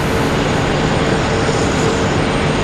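JetBlue Airbus A220 jet engines roaring steadily at an airport in stormy weather, a dense continuous broadband rush with no voices.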